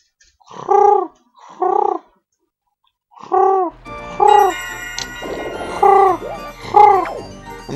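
A voice imitates a pigeon's coo, several soft throaty warbling calls in a steady rhythm, with a low hum and faint clatter joining partway through.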